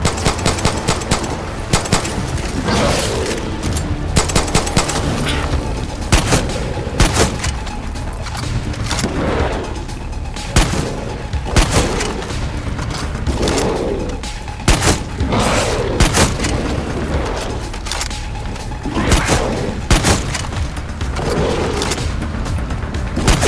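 Gunfire in the video game Far Cry 6, with a pistol among the weapons, as rapid repeated loud shots in bursts with booming impacts, continuing steadily over twenty-plus seconds of chaotic combat.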